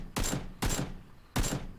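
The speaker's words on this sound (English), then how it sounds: "Tyler, is that you shooting at the other guy?" Gunfire in the PUBG video game: three distinct sharp shots spaced unevenly across a short moment, moderately loud and without voices.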